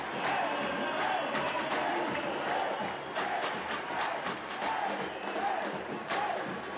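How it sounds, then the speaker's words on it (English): A basketball arena crowd roaring during a BCL Americas game between Gladiadores de Anzoátegui and Real Estelí as the score is tied, a broad sustained cheer with sharp shoe squeaks and calls mixed in, heard far off. "Crowd now back into this game"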